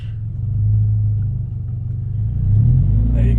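A manual Scion FR-S engine rumbles steadily at low revs as the clutch is eased out and light throttle is applied, the note rising slightly near the end as the car pulls away.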